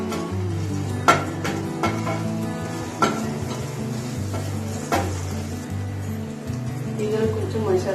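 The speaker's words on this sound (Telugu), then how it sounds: "ఇవి కొద్దిగా లైట్గా ఫ్రై అవ్వాలి." Whole garam masala spices and shahjeera lightly frying in a pan, a steady sizzle with several clanks and scrapes of stirring, while a low steady hum runs beneath.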